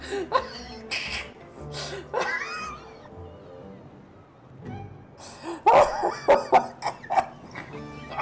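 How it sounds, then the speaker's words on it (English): Several harsh coughing bursts, one after another, with gasping breaths and a short pause between fits, close and fairly loud, from Genshin Impact. "Oh god, I'm starting to cough."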